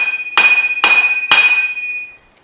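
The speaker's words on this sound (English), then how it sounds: "So I'm gonna give this a few good whacks and hopefully it pops off" Three hard metal hammer strikes on a Scrambler 500 2x4 gearbox part, each ringing out with a sustained metallic tone that fades after the last blow; loud and close, no talk.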